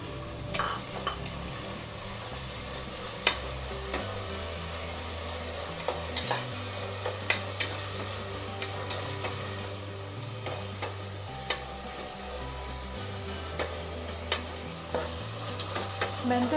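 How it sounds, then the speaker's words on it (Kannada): Fenugreek leaves fry in oil for an avarekalu methi pulao, making a continuous soft sizzle broken by sharp scattered pops and spatula scrapes, with a low steady hum underneath and no talking. "ಮೆಂತ್ಯ ಸೊಪ್ಪು ಚೆನ್ನಾಗಿ ಎಣ್ಣೆಯಲ್ಲಿ ಫ್ರೈ ಆಗಿ ನಿಮಿಷ ಎಣ್ಣೆಯಲ್ಲಿ ಫ್ರೈ ಮಾಡಿದ್ರೆ ಸಾಕು"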